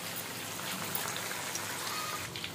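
Chicken kandi kebabs fry in hot oil with a steady, dense sizzle and crackle, moderately loud and continuous throughout, with no talking.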